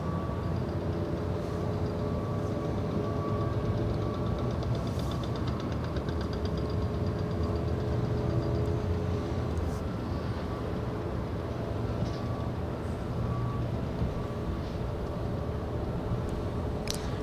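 SkyWest Airlines Embraer E175 regional jet operating as American Eagle at Los Angeles International Airport, a steady distant engine drone with low rumble and a faint whine throughout, mixed with airport ambience.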